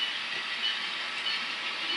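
A train moves through a rail yard with a steady broadband rumble and hiss, continuous and even in loudness, with no voices over it.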